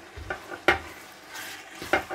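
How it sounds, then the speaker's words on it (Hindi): Tripe fries in hot oil for a Pakistani ojhri curry, a soft sizzle under a few distinct scrapes and clinks of a spoon stirring against the pot. "ये अब ओजरी जो है इसमें डाल दें और तकरीबन 5-7 मिनट इसको आराम से भूनें"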